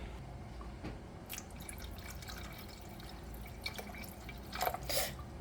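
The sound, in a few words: water being added into a cooking pot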